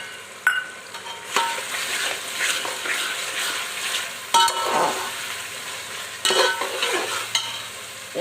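Chicken pulao masala with ginger-garlic paste and garam masala frying in a pot, with a steady soft sizzle broken by repeated scraping stirs of a spoon, close and fairly quiet, no talking.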